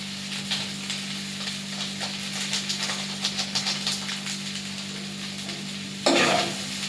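Food frying with egg and Maggi masala is stirred in a hot pan, giving a close sizzle with bursts of scraping strokes over a steady hum, then a sharp hiss near the end.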